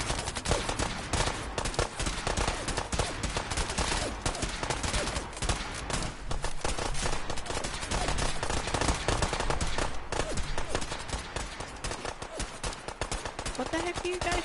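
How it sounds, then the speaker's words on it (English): Characters firing guns in the Fallout 4 video game on PS4: dense, continuous bursts of rapid gunfire that carry on loudly for the whole stretch, with a voice talking over it. "What the heck are you guys shooting at?"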